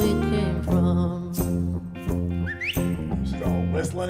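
A whistled melody runs briefly through a live session recording of a song with a steady beat and layered instruments, sitting under the music rather than alone.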